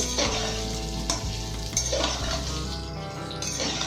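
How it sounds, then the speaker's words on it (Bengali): Cut, washed potatoes fry in a pan while being stirred, a close, steady sizzle broken by scraping strokes and light clinks of the utensil against the pan. "এর মধ্যে দিয়ে আমরা আলুটাকে একটু ভাজা ভাজা করে নেব।"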